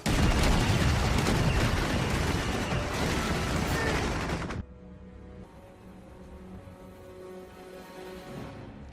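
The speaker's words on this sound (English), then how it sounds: "I want every gun we have to fire on that net." A massed volley from many guns firing at once in a movie battle scene, a loud sustained roaring barrage that breaks off suddenly into quiet low ambience with a faint hum.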